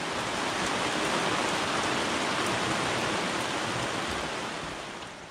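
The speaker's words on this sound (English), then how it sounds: "Just a heavy downpour here for a few minutes." A dense, continuous hiss of heavy spring rain pours down steadily on a lake, loud and close, easing slightly toward the end.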